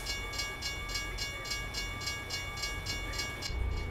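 A freight train rolls past in American Truck Simulator at steady volume, with periodic rhythmic wheel clacks over a constant rumble and tonal hum, and no voices.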